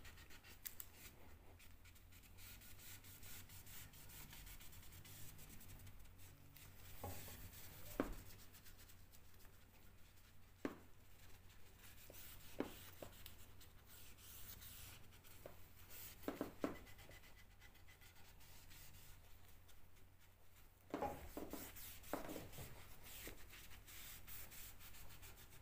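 A cloth rubbing water-based wood dye into wooden spindles gives soft, scratchy, continuous scrubbing strokes, faint and close, with occasional sharper rubs and no talk.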